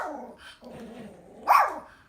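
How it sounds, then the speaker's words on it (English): A dog gives a few low growly vocalizations, then one sharp louder bark near the end, fairly close and otherwise quiet. "you like to bark and then you start barking"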